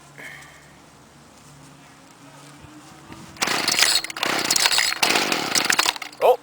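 A gas string trimmer, choked for a cold start, cranks and catches about halfway through, its small two-stroke engine then buzzing loud and close in uneven bursts after a quiet stretch.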